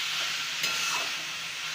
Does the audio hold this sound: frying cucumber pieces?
yes